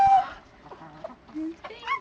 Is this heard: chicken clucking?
yes